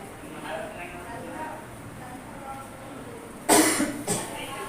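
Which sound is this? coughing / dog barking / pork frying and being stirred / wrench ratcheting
coughing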